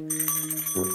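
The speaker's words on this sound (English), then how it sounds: "a bell." A metal bell pulled from a box rings with bright sustained tones, its pitch shifting partway as it keeps ringing alone with no talk.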